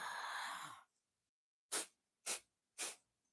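After a longer breath, three sharp, forceful exhales through the nose follow one another at an even pace, close and distinct against silence, as part of a breathing exercise meant to clear the sinuses.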